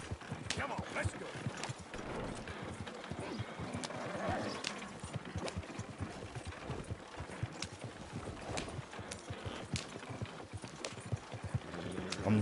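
Horse hooves clip-clop steadily in Red Dead Redemption 2 on PS5, a continuous rhythmic gait at moderate distance, with occasional snorts and faint game ambience beneath.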